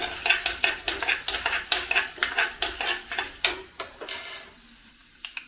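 Urad dal frying in a pan while being stirred, with quick rhythmic scraping strokes over a soft sizzle, close and clear. The stirring stops near the end, leaving a brief quiet sizzle.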